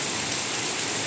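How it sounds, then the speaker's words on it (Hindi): Heavy rain pours down in a village, a steady dense hiss of downpour drumming on surfaces, continuous and fairly close with no voices. "यहाँ पे आप देख सकते हैं कितना जोर की बारिश चल रही है"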